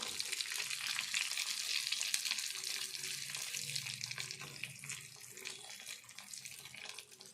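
Boiled eggs fry in hot oil for an egg curry, giving a soft, continuous crackling sizzle close by with faint stirring and no speech.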